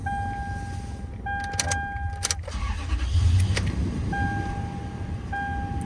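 2008 Toyota Tundra pickup engine idling steadily with a low rumble, with chimes repeating and small mechanical clicks and key sounds near the vehicle.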